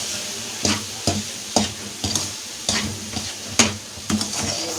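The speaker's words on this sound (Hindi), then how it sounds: "अब बिल्कुल लो फ्लेम पे हमें इसको अच्छे तरीके से भूनते रहना है बस" Besan and suji halwa is stirred and roasted on a low flame, with regular scraping strokes around the pan roughly twice a second over a faint sizzle, close and clear.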